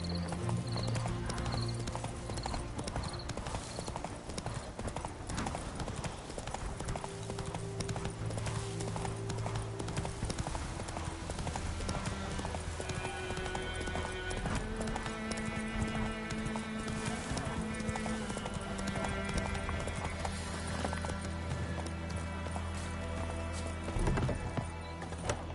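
Horse galloping in the video game The Witcher 3, with steady clip-clop hoofbeats running loud and continuous over a dense layer of game music and ambience, plus an occasional whinny.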